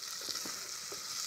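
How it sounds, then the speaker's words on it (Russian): Potatoes, onion and garlic fry in a pot with a soft, continuous sizzle and a few faint stirring scrapes, quiet and close. "уже в кастрюле у меня поджаривается"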